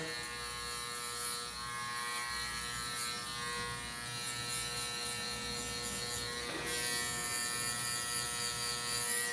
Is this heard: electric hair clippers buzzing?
yes